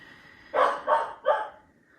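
A dog at home barks three times in quick succession, fairly close and loud, each bark a short burst, with a quiet room behind and no talk.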